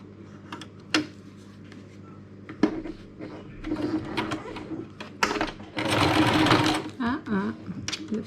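A sewing machine stitches zigzag on paper and fabric ribbon: short mechanical clicks, then rapid stitching bursts, the longest near the end, close by, with a voice talking over it.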